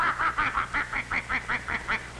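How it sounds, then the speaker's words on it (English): Geese honk and cackle in a steady series of about a dozen harsh, nasal calls, close and moderately loud, with no talking. "The geese flapped their wings angrily"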